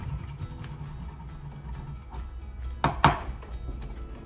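A kitchen knife chops through a single garlic clove on a board, a few quiet taps building to two sharp, close knocks near the end amid low background hum.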